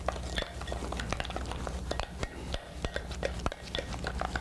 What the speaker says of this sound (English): Now we stir this up.